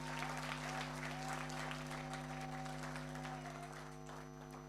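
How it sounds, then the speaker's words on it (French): Applause from an audience at a corporate gathering honoring a young company team, a steady, dense wash of clapping held throughout at moderate distance, with a constant electrical hum running underneath. "Applaudissez pour ces jeunes, s'il vous plaît."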